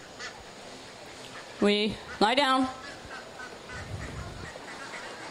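Two loud, nasal honking quacks from ducks burst out close by during a working sheepdog herding demonstration, set against quiet outdoor background with a handler's commands around them.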